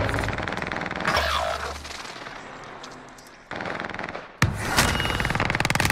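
Automatic gunfire in Call of Duty on Rebirth Island rattles in rapid bursts, the shots close and loud at first, briefly dropping back, then cutting in again with a sharp blast.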